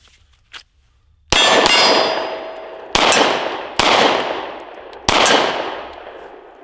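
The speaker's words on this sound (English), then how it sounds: "I'm hitting on target with this Kiger 9" A brief clang, then four loud 9mm pistol shots from a Kiger 9, each with a bright metallic ring of steel targets being struck, spaced about a second apart and fading between hits.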